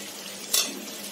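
Whole spices, bay leaves, cumin paste and ginger-garlic paste frying for a mutton curry, a faint sizzle broken by one brief scraping stir of a utensil against the pan.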